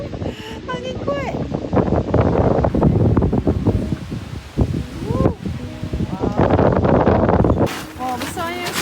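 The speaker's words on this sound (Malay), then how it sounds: "Angin dia padu kuat." Strong wind buffets the microphone at a Kundasang dairy farm overlooking Mount Kinabalu, loud rumbling gusts roaring throughout while people talk over it.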